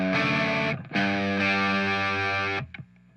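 Electric guitar chords strummed near the bridge through heavy distortion, a dense, loud sustained wash with a brief cut-off just under a second in and another near the end.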